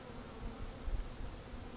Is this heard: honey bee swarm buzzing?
yes